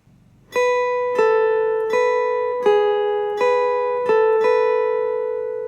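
Acoustic guitar notes plucked alone in an even, unhurried rhythm, each ringing out before the next, about seven in a row.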